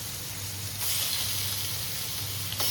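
Chicken 65 pieces frying in shallow oil, a steady close hiss and sizzle that swells briefly partway through, with no talking.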